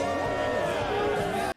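A dense crowd in a Minecraft game cheers and woos together, a blended wash of many voices at moderate loudness that holds steady and then cuts off abruptly.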